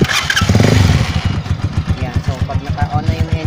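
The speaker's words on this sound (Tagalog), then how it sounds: "Pag naka-on na yung engine natin," A manual-transmission motorcycle engine fires up and settles into a close, loud, pulsing idle with a rapid rhythmic thump.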